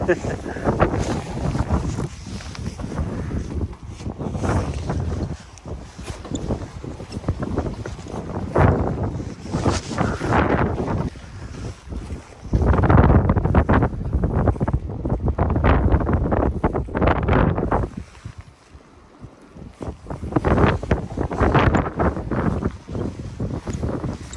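Strong wind gusts roar across the microphone on a night fishing trip for cod, loud buffeting rising and falling in waves with brief lulls, while a person talks intermittently over it.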